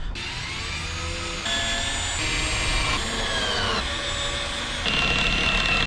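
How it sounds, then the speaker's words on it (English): A power driver runs screws into a panel inside a Peugeot Boxer L2H2 campervan conversion, giving a loud, continuous motor whine that shifts pitch in several steps as each screw drives in. "So I'm just going to screw it basically."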